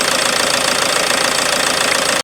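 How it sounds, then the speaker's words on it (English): A Ford Transit Connect 1.8L Duratorq TDCi diesel engine idles while still cold, a steady close clattering knock with an even rhythm, briefly cut off near the end. "Engine is still running"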